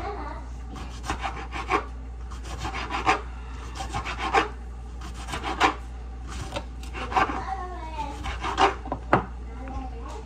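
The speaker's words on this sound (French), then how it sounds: "là j'ai fini de hacher tomate" Knife chopping tomatoes on a cutting board, irregular bursts of quick scraping, rasping strokes with soft thuds, fairly close and moderate, while a person talks at times.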